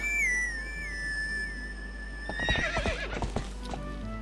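A horse whinnies in the video game Zelda: Twilight Princess, a long rising and falling neigh over a low hum, followed by a quick run of clip-clopping hooves.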